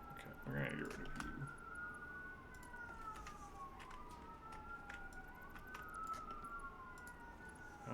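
Sirens from emergency vehicles on a big nearby road, a wailing tone sweeping up and down repeatedly at moderate distance, faint under keyboard typing and room noise.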